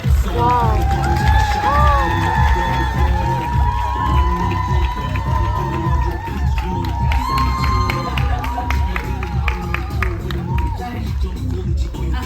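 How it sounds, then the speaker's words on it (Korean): A theater crowd at a screening event cheers and applauds as actors walk onto the stage, loud and sustained, with shrieks and shouts over dense clapping and an announcer's voice in the mix. "큰 박수 부탁드립니다"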